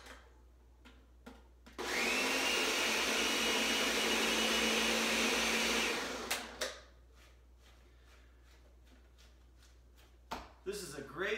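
A blender whirs steadily for about four seconds, blending kale and other greens into a smoothie, loud and continuous, with clicks and handling noises before and after.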